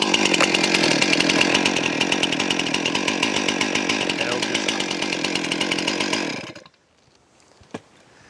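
A Stihl MS 261 chainsaw runs loudly and steadily at a fast idle for about six seconds after starting, then cuts out abruptly, leaving near silence with one faint click.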